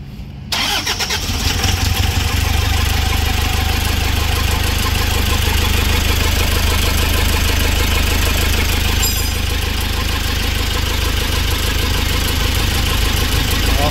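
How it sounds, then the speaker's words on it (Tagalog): A flood-damaged Toyota 2KD diesel engine cranks and catches, then settles into a loud, steady, slightly knocking idle that runs on alone and close by. "Sir, start mo ulit."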